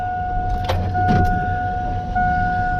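A truck at a scrap yard runs close by with a steady engine hum and a couple of brief mechanical clicks as it gets ready to pull away.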